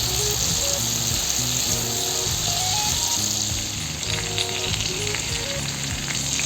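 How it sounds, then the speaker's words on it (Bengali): Potatoes frying in hot oil in a home kitchen, prepared for a jackfruit curry, give a loud, steady sizzle that runs without a break while tonal music plays underneath. "এখন আমি আলুগুলোকে দিয়ে ভালো করে ভেজে নেব।"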